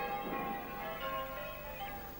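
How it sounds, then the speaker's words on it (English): Church wedding bells ring faintly in the Captain Pugwash cartoon, a soft sustained metallic chime with lingering overtones, heard alone without talk. "Can't sleep, not with them blooming bells."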